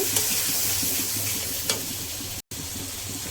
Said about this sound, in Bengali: এবারে মশলাটা কিছু সময় ভালোভাবে কষিয়ে নেব